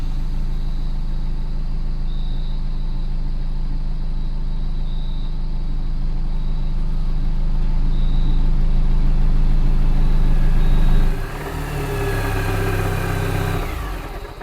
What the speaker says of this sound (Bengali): স্টার্ট দিলাম। ট্রাকটা কাঁপতে কাঁপতে সামনের দিকে এগিয়ে চলল।